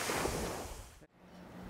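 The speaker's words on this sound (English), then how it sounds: "This is the coastline off St. George Island." Waves wash steadily along the Gulf coastline off St. George Island, a broad continuous surf hiss that briefly dips before resuming.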